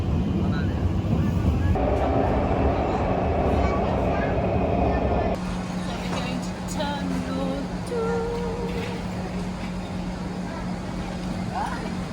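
Rumbling interior of a moving Singapore MRT train heading to the airport, with a steady hum, a tonal shift partway through as the motor changes, and faint voices in the carriage.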